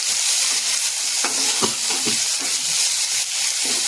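Shidol, fermented fish, frying in hot oil with green chillies and garlic, giving a steady broad sizzle with stirring scrapes and clinks scattered through, close and fairly loud, no voices.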